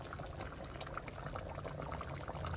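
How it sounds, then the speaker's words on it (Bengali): Mutton curry bubbling in a pot on the stove, a steady close simmering burble with soft popping bursts throughout, no talk over it. "মাংস ফুটে গেছে, একটু পরে নামিয়ে নেব"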